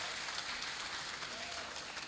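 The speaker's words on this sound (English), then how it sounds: "Please give a round of applause for Dr." A lecture audience at Universitas Teknokrat Indonesia applauds a visiting guest speaker in a brief, continuous burst of clapping at moderate distance.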